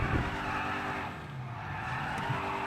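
A loud classic car engine in Grand Theft Auto V drones steadily with a gritty, synthetic edge, holding a constant pitch throughout without any talking.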